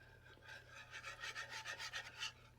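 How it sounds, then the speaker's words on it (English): Whisk scraping and swishing through a butter and flour roux as beef broth goes in, a quick run of soft rhythmic rasping strokes, faint and close, with no talk. "Now we can start slowly whisking in our beef broth"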